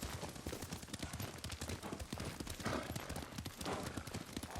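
Horse hooves clatter in a quick, steady galloping rhythm during riding in Ghost of Tsushima, a dense run of close thuds heard without talk.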